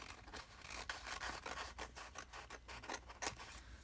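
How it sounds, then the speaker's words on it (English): Scissors trimming a protruding paper edge in a traveler's notebook during journaling, heard as a run of quick, close snipping and scraping strokes at low level with no talking. "So I'm just going to trim this."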